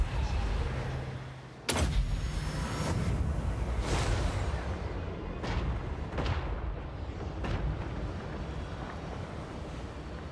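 Dwarf units shooting in a Total War Warhammer 3 battle: sharp gunfire and artillery-like blasts crack out at irregular intervals over a steady rumbling roar of wind and combat.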